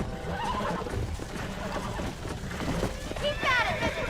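A horse whinnies in the Western action game Red Dead Redemption, a loud drawn-out neigh rising near the end over hoofbeats and a busy game soundscape.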